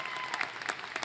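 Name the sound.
applause at graduation ceremony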